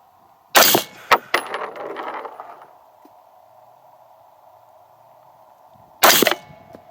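A rifle fires at a target during sight-in, giving two sharp loud reports several seconds apart. The first is followed by a few quick clanks and a fading rumble, and a steady hum runs underneath.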